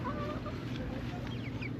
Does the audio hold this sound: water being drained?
no